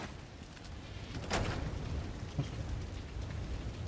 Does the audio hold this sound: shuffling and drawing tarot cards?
no